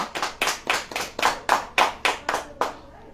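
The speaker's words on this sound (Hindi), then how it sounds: "ताली कस के बजाएं" A congregation at a Hindi-language Christian preaching service claps hard in unison, about ten sharp, loud claps in a steady rhythm before stopping.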